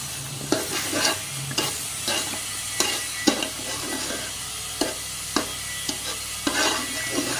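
Malai is stirred into melting sugar in a pan for a sweet rice dish: a constant sizzle punctuated by regular scraping strokes of a spoon roughly every half second, close and clear.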